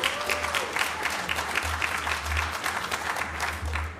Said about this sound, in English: Earned applause. That's good.